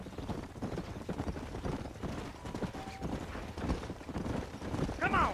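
Horses in the video game Red Dead Redemption gallop with a fast, continuous rumble of hoofbeats, and a sharp whinny rises at the very end over the loud herd.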